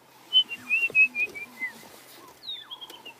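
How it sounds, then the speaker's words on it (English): Robins sing in a dawn chorus at a sunrise safari reserve: a string of bright, slurred whistled phrases repeats at close range, with softer low cooing notes and other birds calling beneath. "Robins."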